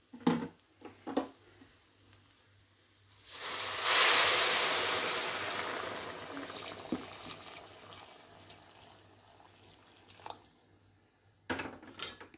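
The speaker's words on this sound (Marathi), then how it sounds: "आता ह्याच्यामध्ये घालते गरम पाणी" Hot water is poured from a vessel into a pot of drumstick pulao. A sudden gush starts partway through and tapers off into a softer trickle, framed by a few quiet clinks of kitchen utensils.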